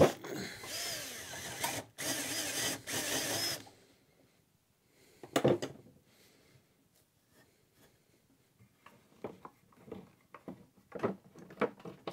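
A hammer drill grinds loudly into wood in a few heavy bursts, followed by quieter knocks, scrapes and handling clatter.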